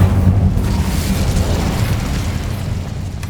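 An Incendio fire spell in Hogwarts Legacy, a loud, steady roaring blast of flame that rumbles on for a few seconds.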